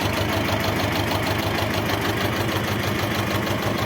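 A car engine idles steadily, a low, even rumble with a regular pulsing beat that never changes, close by, with no voices.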